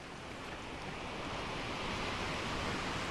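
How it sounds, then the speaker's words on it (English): Rain and calm sea in the sailing video game Sailwind, a steady soft wash of broadband noise like drizzle over gentle waves, continuous and even with no voices. "we got some rain, but the waters look calm"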